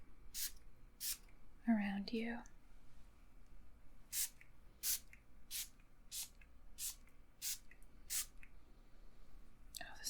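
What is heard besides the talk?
spray bottle of juniper berry, peppermint and vetiver mist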